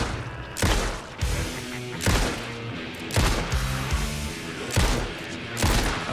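Flare gun shots in Alan Wake 2 fire in a rough rhythm, about five loud, sharp blasts, each trailing a short rumble over a murky game ambience.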